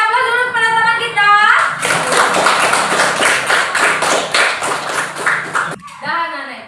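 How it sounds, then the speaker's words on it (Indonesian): Applause for a student in an Indonesian classroom, many children clapping steadily for about four seconds, loud and near, with a teacher's voice speaking just before and after. "Kita beri aplaus dulu kepada teman kita."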